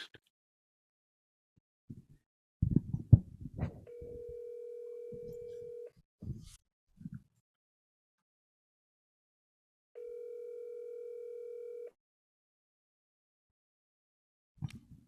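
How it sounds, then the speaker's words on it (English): A telephone call rings out: a steady tone plays for about two seconds, goes quiet, then repeats. Brief voices and bumps come before the first tone, and a short noise follows the second. "I'm ringing it now"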